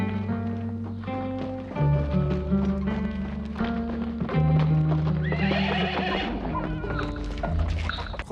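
A horse clip-clops steadily on hard ground and whinnies loudly near the end, the hooves close and rhythmic under a continuous musical background with no talking.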